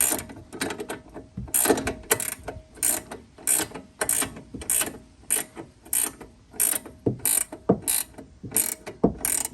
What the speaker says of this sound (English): So what you want to do is turn your ratcheting wrench and back out again.